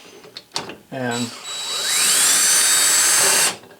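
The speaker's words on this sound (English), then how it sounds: "loosen up the set screw" The set screw on a Kurt machine vise is loosened after a brief spoken word, with a quick ratcheting burst followed by a loud, steady high-pitched tool whine that stops abruptly.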